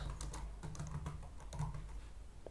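Fast, steady typing on a computer keyboard while entering Python code, a soft, continuous patter of close key presses with no talking.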